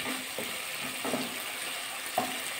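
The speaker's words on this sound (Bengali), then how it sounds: "আবার একটু নাড়াচাড়া করলাম।" Masala with softened tomato frying in oil in a pan while okra bhindi jhal cooks, a steady close sizzle broken by a few scraping stirs of a spatula, with no talking.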